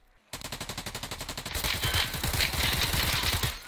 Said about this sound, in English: Oh, I'm shooting the concrete in front of me.